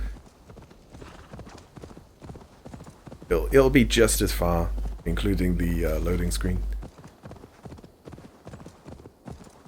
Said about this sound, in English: Just go by horse.